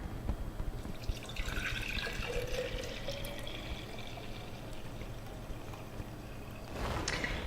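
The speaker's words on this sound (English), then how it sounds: "I'm going to want to fill it up with water." Water runs into a mason jar holding a spoonful of blue-green algae powder, a faint steady trickle with a slowly rising pitch as the jar fills, alone and close.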